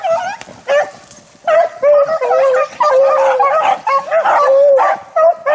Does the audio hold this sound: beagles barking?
yes